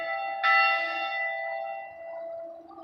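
One stroke of a church bell in La Cañada, a small California town, rings out close and clear, and its rich tone fades away slowly over several seconds. No other sound competes with it.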